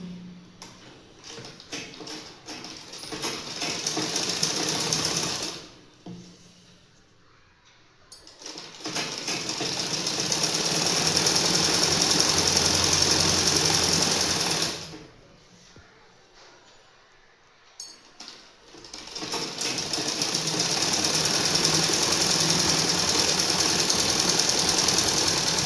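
A sewing machine stitches elastic underwear in three long runs of rapid, steady mechanical chatter, each separated by a few seconds of near quiet, heard close with no talking.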